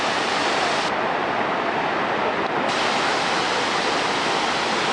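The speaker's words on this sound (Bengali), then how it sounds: "অসাধারণ সুন্দর, ভয়ঙ্কর সুন্দর এই জলপ্রপাত।" Pykara waterfall in the Nilgiris, Tamil Nadu, roars as a loud, continuous broadband rush of falling water, steady and close throughout with no voices.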